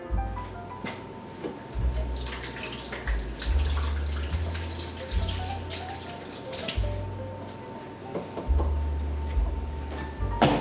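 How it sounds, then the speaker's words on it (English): Water from a kitchen tap runs in uneven bursts as hands are rinsed under it, a soft splashing and trickling that rises and falls close by, fairly quiet, with no talking. "I'll rinse my hands again."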